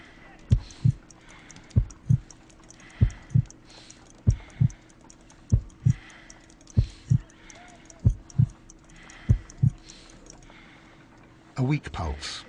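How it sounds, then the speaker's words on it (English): Slow, regular double-thump heartbeat in a detective video game, about a dozen paired beats at a weak pulse near 50 beats per minute, close and distinct over a quiet hum, ending with a brief louder burst. "I need to concentrate and count the heartbeats."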